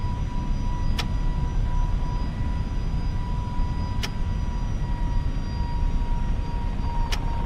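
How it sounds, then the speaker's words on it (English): Inside a flight simulator game, the twin engines of an A321neo hold steady climb thrust, a constant, loud, even roar with a steady hum running through it and a few short clicks over it. "set climb thrust"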